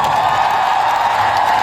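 Large convention-hall audience at ComicCon Russia applauding and cheering for actor Mads Mikkelsen, a dense, steady wash of clapping and crowd noise, loud and continuous without a break.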